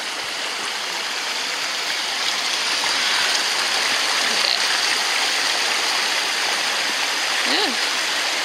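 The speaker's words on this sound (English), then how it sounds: "Waterfall go now." A waterfall in an icy cave area pours with a steady, broad rushing roar that stays constant and close throughout, with a faint brief chirp near the end.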